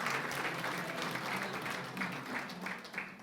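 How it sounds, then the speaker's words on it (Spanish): A church congregation applauds steadily, a dense wash of clapping hands that holds throughout at moderate volume, slightly distant in a large room. "Démosle un fuerte aplauso al Señor."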